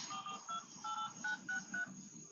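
A phone number is keyed in as a quick run of about eight DTMF dialing tones, each a short clear beep spaced at an even rhythm, close and alone.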